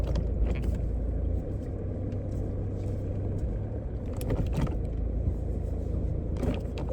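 A Mini car parking up, heard from inside as a low engine idle and rumble with mechanical clicks and brief knocks, fairly quiet and steady.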